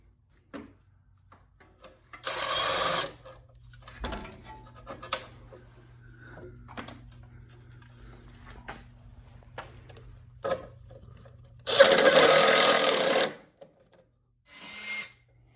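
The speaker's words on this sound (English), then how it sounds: "You just drilled that out so you can fit a new cotter pin in, right?" A power drill whirs in two sustained bursts with a shorter third one, drilling out a cotter pin hole during a Hyundai Veloster front wheel bearing replacement, separated by quiet handling clatter and faint rubbing.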